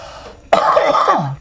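A single throaty cough, close and loud, a rough rasping burst that trails off into a short clearing of the throat.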